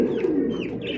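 Danish black pigeons coo in a short, low, throaty burst, close and fairly loud, with no other sounds competing.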